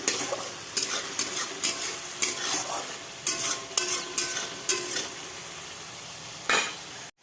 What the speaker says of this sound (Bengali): এখানে যে মশলা কষাচ্ছি মাছের জন্য